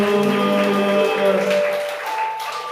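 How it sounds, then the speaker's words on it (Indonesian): Church congregation applauding during a worship service, a broad steady patter of many hands blended with sustained music and voices, fading slightly toward the end. "Berikan tepuk tangan bagi Tuhan Yesus"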